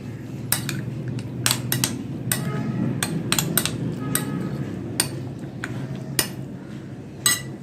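Chicken marinade for shish taouk being stirred in a bowl, with repeated sharp clinks of a utensil against the bowl's side over a steady low rumble, close and moderately loud, with no talking.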